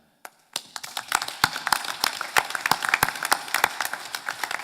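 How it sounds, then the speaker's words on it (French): Members at a general assembly meeting applauding to approve a nomination, clapping starting from silence with a few isolated claps, then building into irregular, moderately sized applause from a smallish room. "nous pouvons la nommer par applaudissement"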